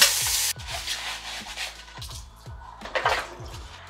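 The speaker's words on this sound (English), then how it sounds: "Of course, I'm gonna do the dishes before we leave." Dishes are washed at home, with scrubbing and rubbing noises, soft clinks of plates and cutlery, and a burst of running water at the start, all close by.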